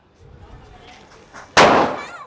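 A single sharp firecracker burst goes off close and loud after a quieter lead-in of people talking, its blast decaying over a fraction of a second.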